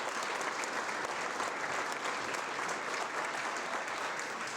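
Sustained, dense applause from a large school audience for faculty and staff at a state of the school presentation, many hands clapping in an even roar without a break.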